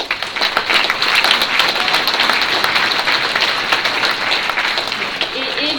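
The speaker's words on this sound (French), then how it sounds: "Donc je crois que vous pouvez les applaudir." Sustained, loud audience applause at a NUPES public meeting on pensions in Villeurbanne, a dense wash of many hands clapping steadily for several seconds, with a faint voice near the end.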